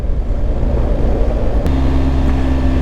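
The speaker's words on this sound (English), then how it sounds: "Listen to that 1250cc grunting." A 2023 BMW R1250GS 1250cc motorcycle engine rumbles loudly up close, a deep throbbing growl that settles into a steady, lower drone partway through.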